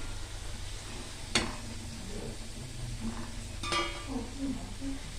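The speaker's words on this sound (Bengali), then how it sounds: "লাল লাল করে ভাজা হয়ে গেল পেঁয়াজি" Soft, steady sizzle of onion fritters frying in oil, with a couple of brief clinks of a utensil against the pan.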